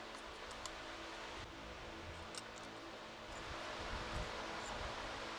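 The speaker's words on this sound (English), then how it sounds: "So my apologies about the fan noise" Electric fan running steadily in a very hot garage, a faint continuous whooshing hum with no voices.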